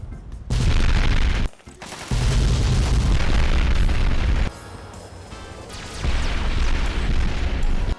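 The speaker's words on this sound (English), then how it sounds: "I found a way to make every single gun fire mini nukes" Mini nukes explode in Fallout 3, heavy booming blasts and dense rumbling fire that roar loudly in long sustained bursts with brief gaps between, close and overwhelming, without voices.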